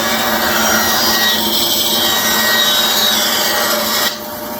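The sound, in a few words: saw cutting walnut and cherry cutting board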